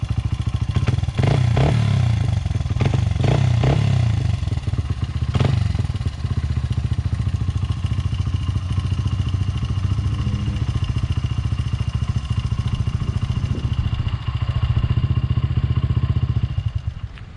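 A Honda CRF80F dirt bike engine runs steadily in gear, a loud close putter with a few revs in the first seconds before settling into an even idle-like drone to the end.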